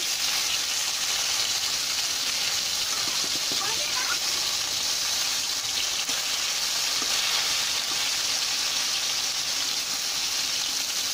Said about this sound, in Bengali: তাই আমি এভাবে তেলটা দিয়ে যাতে পাশেরগুলো ভালো করে ভাজা হয়